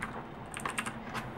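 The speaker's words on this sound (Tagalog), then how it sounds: "This is a mechanical keyboard." Rapid, uneven clicking from typing on a Ducky Zero 2108s mechanical keyboard fitted with Cherry MX Blue switches, a close and fairly quiet run of keystrokes with a few sharper clicks standing out.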